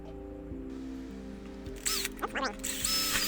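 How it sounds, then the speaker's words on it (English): A power drill whirs in short bursts with rising and falling pitch, close by, pre-drilling holes during a greenhouse repair, after a stretch of quieter low hum. "All right, let's get some drilling done."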